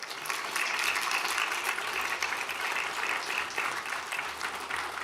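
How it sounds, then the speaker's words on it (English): Sustained applause fills a county board of supervisors meeting room, a steady crackle of many hands clapping at moderate volume for several seconds. "One more round of applause."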